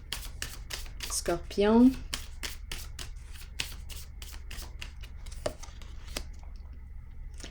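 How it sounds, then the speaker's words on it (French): A tarot card is drawn from the deck and handled, making quick papery flicks and taps in a rapid irregular run, with a voice speaking briefly partway through. "Je vais piger une autre carte pour ici."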